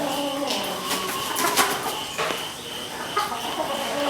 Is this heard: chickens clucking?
yes